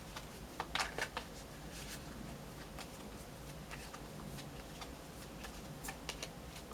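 Tarot cards are shuffled and drawn, with faint, quick riffling and light snapping flicks in short clusters over a quiet room background, and no talking.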